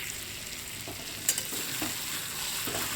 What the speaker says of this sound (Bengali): এবার আমি এর মধ্যে ভেজে রাখা কচু আর আলুটা দিয়ে দিলাম।